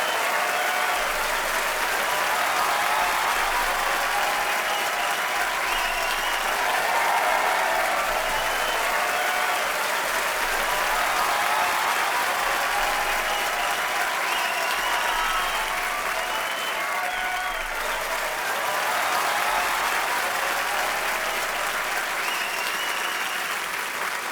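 Sustained, loud studio audience applause welcoming actors Ali Fazal and Momal Sheikh onto The Kapil Sharma Show, a dense steady roar of clapping lasting the whole stretch with a faint crowd murmur beneath.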